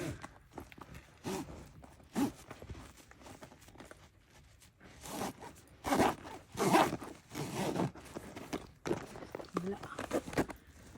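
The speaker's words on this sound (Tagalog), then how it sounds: "Dahan-dahan na kasi naka-open na yung ano nyo, yung zipper." A brass zipper on a Louis Vuitton Speedy 40 bag is slid open slowly in short scratchy bursts, close and fairly quiet, with footstep-like rustling between the pulls.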